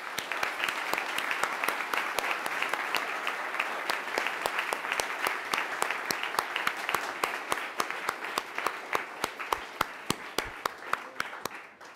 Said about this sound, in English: can we have a round of applause for all these folks?